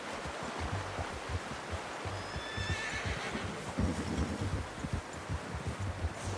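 A horse whinnies in Red Dead Redemption 2 amid soft hoof clip-clops, rustling foliage and a gentle outdoor ambience, moderately close and without talk.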